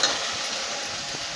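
Okra being sautéed in a pan over low heat, a soft steady sizzle and hiss with faint stirring scrapes, brief and close.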